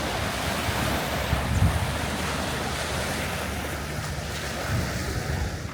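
Steady waves and gusting wind on the shore of Lake Como, a large lake, make a continuous loud wash with microphone buffeting and a few low thumps, and no voices.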